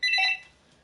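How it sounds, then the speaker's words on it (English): Phone in FIFA 16 career mode giving one short, clear electronic ring burst that fades quickly, alone with no talk. "And that's the phone right there."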